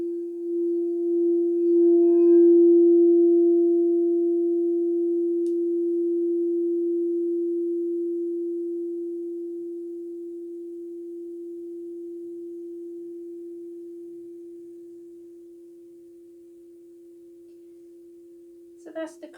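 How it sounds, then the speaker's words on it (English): A crystal singing bowl rung around its rim gives one steady, pure sustained tone that swells early and then slowly fades across the whole stretch, with a faint brief knock near the end. "So that's the crystal singing bowl."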